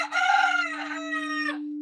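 A rooster crows once, loud and close, a single drawn-out cock-a-doodle-doo lasting well over a second against a steady low hum.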